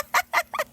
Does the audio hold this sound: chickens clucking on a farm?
yes